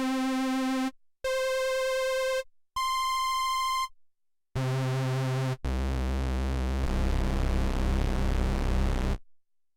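Moog One synthesizer playing separate held tones at different pitches, bright buzzy notes with gaps between, then a long low note whose keyboard-tracked LFO adds a fast rhythmic wobble, clean and alone.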